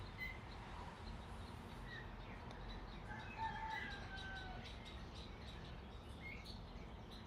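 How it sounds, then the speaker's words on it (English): Roosters and birds call at a distance over a steady outdoor background hum, with faint scattered chirps and crows surfacing through the noise. "Roosters and birds."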